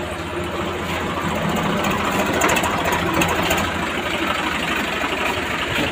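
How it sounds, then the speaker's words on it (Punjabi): A tractor engine runs steadily at close range, a continuous rumbling idle with a fine rattling texture and even loudness throughout. "ਜੀ ਬਾਹਰ ਕੱਢਦੇ ਹਾਂ ਟਰੈਕਟਰ।"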